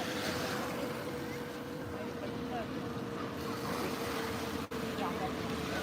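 Sea waves wash continuously onto a French beach in summer, a broad steady roar mixed with wind buffeting the microphone and a low hum, with no clear voices.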